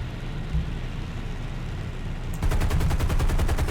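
A slow, steady burst of 20 mm cannon fire from a Japanese B7A2 aircraft in War Thunder starts partway through, rhythmic thuds over a droning aircraft engine.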